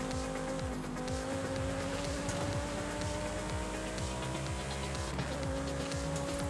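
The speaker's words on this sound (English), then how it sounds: "Sounds like cars are pretty close." Race cars roar close by in Forza Horizon 5, engines droning steadily with rising and falling pitch and tire noise, loud and continuous throughout with no talking.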